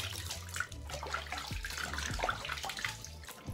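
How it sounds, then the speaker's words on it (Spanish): Water splashes as a face is rinsed with tap water after a cleansing foam, with soft running and splashing sounds close by and no talk. "aclaramos con la agüita."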